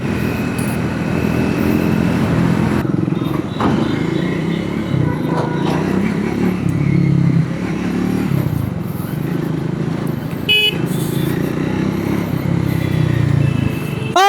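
A Triumph motorcycle rides fast at around 80 in a 40 zone, its engine drone and wind roar continuous and loud close to the microphone throughout, with occasional scraping bumps.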